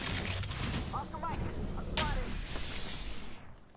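Video-game gunfire rattling in a dense, continuous burst under a player's excited talk, with a loud sharp shot near the two-second mark and the sound fading out at the end.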